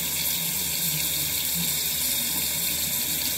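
Tap water runs steadily into a sink during a nighttime face rinse, a constant close hiss and splash with no breaks and no talking.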